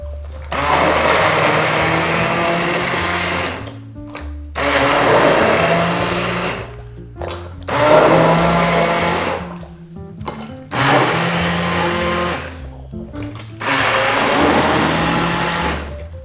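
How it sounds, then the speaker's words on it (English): A handheld stick blender purees salsa in five loud, sustained bursts separated by short pauses, its motor whining and churning through the mixture, with no talking. "we're going to blend this up to get the right mixture."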